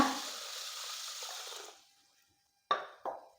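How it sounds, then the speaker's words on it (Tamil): Water is poured onto black urad dal in a bowl, a rushing splash lasting under two seconds. After a short pause come two sharp knocks. "இப்போ உளுந்தில் தண்ணி சேர்த்துக்கோங்க"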